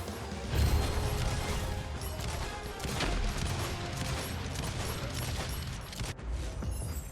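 Bursts of gunfire and explosions from a shooter video game, dense and continuous with louder blasts near the start and around the three-second mark.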